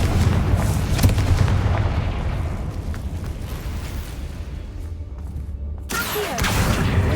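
Confringo blasting spell in Hogwarts Legacy, a loud continuous booming explosion with heavy rumbling that dips briefly before a second burst near the end.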